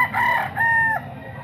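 A young rooster, about seven months old and up for sale, crows once nearby in a short two-part call, loud and clear against a quiet background.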